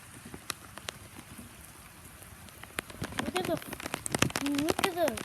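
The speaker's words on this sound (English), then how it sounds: "All this rain" Heavy tropical rain pours outdoors with a dense, steady patter near a car, where water is flooding the ground, and a voice speaks briefly over it toward the end.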